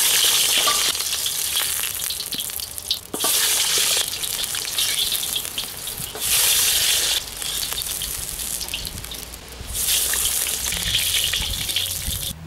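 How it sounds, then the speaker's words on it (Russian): Lamb shanks fry in hot fat in a cauldron, giving a loud, continuous sizzle that swells and fades in waves, with occasional stirring bumps and no voices. "Сейчас я обжарю голяшки."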